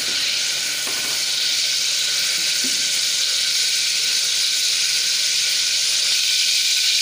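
Dried red chillies and garlic frying in oil for a Chettinad-style vathal kuzhambu, a close and steady bright sizzle with no break and a couple of faint knocks early on.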